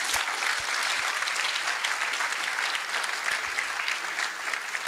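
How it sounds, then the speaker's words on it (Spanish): Audience applause for the professors at the close of a panel discussion on US tariff policy and the Chilean economy, a dense, steady round of clapping lasting throughout without pause. "Démosle un aplauso a los colegas,"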